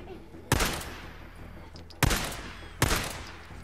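Three loud, sharp gunshots in Days Gone, roughly a second apart, each with a sudden broadband crack and a short decaying tail over a low background.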